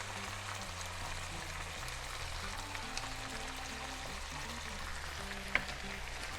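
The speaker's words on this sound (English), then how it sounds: "We keep mixing so the rigatoni keep cooking" Rigatoni with cream, sausage and mushrooms bubbles and sizzles steadily in a pan while being stirred, with soft scraping and a sharp clink near the end.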